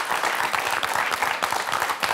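A studio audience at a French TV quiz show breaks into brief, steady applause, a dense wash of clapping heard up close.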